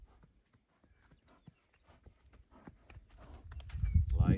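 A horse walks during riding training, its hooves clip-clopping in a slow, irregular rhythm at moderate distance, with louder rustling and movement near the end.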